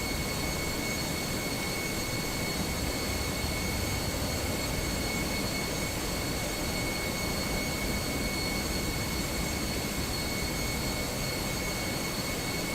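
Airbus A320 jet engines in British Airways livery, simulated in Microsoft Flight Simulator 2024 at Gatwick, give a steady broadband roar with faint high whines, unbroken and fairly loud throughout.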